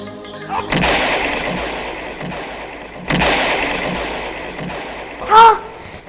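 Gunshots ring out in a Hindi telefilm scene, two sharp loud bursts about two seconds apart over a noisy background, followed by a brief voice-like cry near the end.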